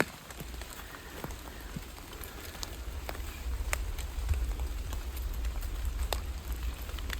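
Rain falls in a forest during a walk to forage large yellow wild mushrooms, a dense steady patter of drops with scattered sharper taps on nearby leaves or gear, continuous and close.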